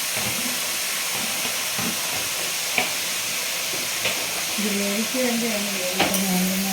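Onions and shallots frying in a pan for chicken curry, a steady sizzle and hiss with occasional stirring scrapes while a person talks over it.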